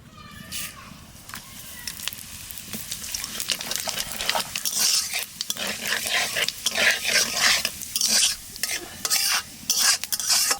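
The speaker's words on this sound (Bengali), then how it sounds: "তেলের পর দিয়ে দেবো তেজপাতা, জিরে।" Bay leaves and cumin sizzle in hot oil for a Bengali silver carp and new potato curry, a continuous crackling fry with scraping stirs that grows louder and busier after the first few seconds, with no talking.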